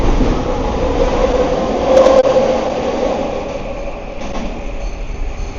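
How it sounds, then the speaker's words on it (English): A Waterfront-bound Vancouver SkyTrain pulls out of an elevated station, a loud, steady rumble of wheels and motors with a brief rising whine near the middle, then easing slightly as it moves away. "Waterfront bound SkyTrain leaving."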